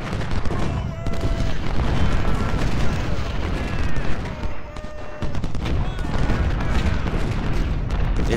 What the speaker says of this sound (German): Ah, die Kanonen laufen.